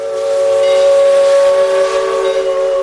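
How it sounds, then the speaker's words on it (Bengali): The Puri Express pulls into a station, its horn sounding a long, loud, sustained tone over the rumble of the train. "মঙ্গলবার পুরী এক্সপ্রেস এসে পৌঁছল 20 মিনিট লেটে।"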